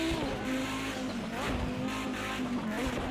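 An Audi Group B Quattro race car laps Bathurst in Project CARS 2, its engine droning steadily at high revs with shifting pitch through gear changes and faint tire noise, loud and close throughout.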